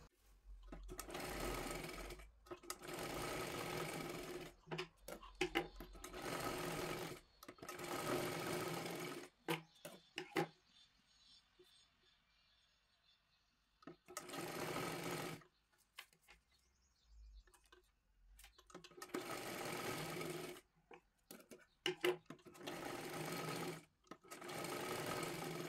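A sewing machine runs in several rapid stitching bursts while sewing a katori blouse, with short quiet pauses between runs and a longer break midway; close and steady, no talking.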